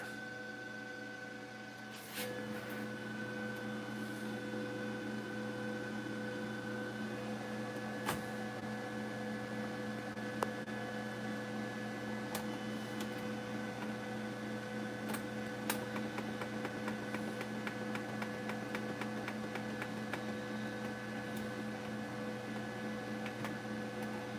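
An Epson S80600 large-format printer runs with a steady mechanical hum and whir, joined by faint irregular ticks and clicks, constant and close throughout with no voices.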